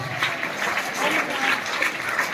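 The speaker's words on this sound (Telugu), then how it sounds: "గట్టిగా వినిపించాలి క్లాప్" Students clapping in a steady round of applause, moderately loud and slightly muffled, with faint voices mixed underneath.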